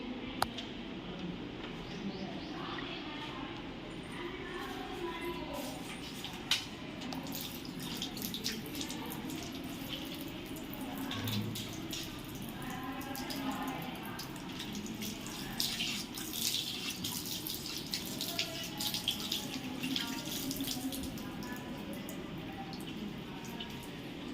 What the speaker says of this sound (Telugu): ఎవరి ట్యాప్ ఆన్లో ఉంచింది?